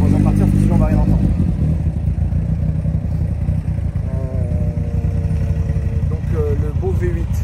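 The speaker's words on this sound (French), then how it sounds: "V8, le bloc moteur de la 488." The V8 engine of a Ferrari 488 runs with a deep, steady rumble close by, while voices talk over it throughout.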